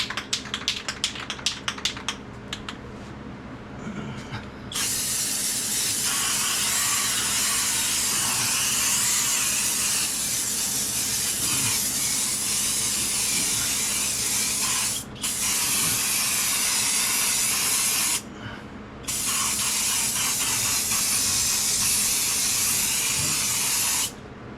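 Harbor Freight bed liner coating sprayed into the trunk of an MGB with an LS swap, a loud steady broadband hiss in long bursts with brief pauses, a running fan beneath, and some clicking and rattling at the start.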